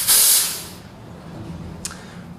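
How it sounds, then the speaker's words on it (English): An espresso machine steam wand purges in a loud, sharp hiss for about half a second during cleaning, then cuts off, leaving quiet café background with one brief faint hiss near the end. "while it's relaxing, I might as well clean my steam arm"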